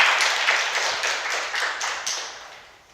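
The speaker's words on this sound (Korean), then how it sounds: "박수 한번 쳐주세요." An audience at a Korean lecture event claps together, a dense burst of applause that begins at full strength and fades steadily over a few seconds, with no talking over it.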